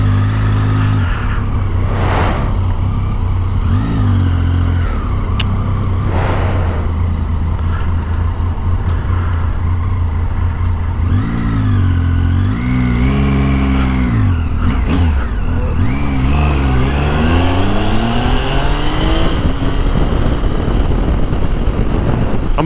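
A Triumph Tiger 800 motorcycle rides through city traffic, its engine loud and close with repeated revs and gear changes rising and falling over a steady rumble and wind noise.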